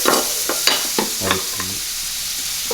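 Onions sizzle in melted butter in a pan still hot from searing tri-tip steak, a steady close frying hiss broken by several sharp stirring scrapes and clicks early on, with no talking.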